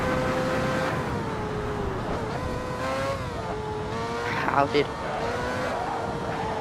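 A race car at Silverstone in Assetto Corsa keeps its engine whining loud and close throughout, the pitch rising and dipping with gear changes and a brief tire squeal, while someone talks over it.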